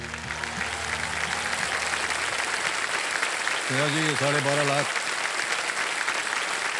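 Steady applause from a television quiz show studio audience fills the whole stretch, loud and continuous, with a host's voice speaking over it at the start and again near the middle.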